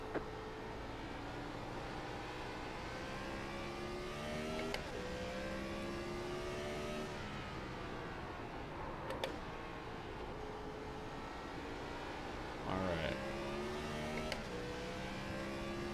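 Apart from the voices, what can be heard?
Gen 4 stock race car lapping Martinsville, from a racing video game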